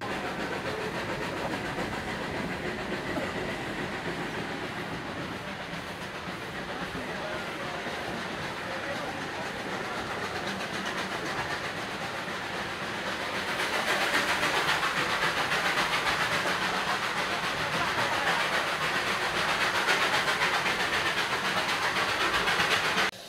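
Darjeeling Himalayan steam toy train running, a faint steady rumble and hiss of the carriage rolling along that swells louder partway through and continues unbroken.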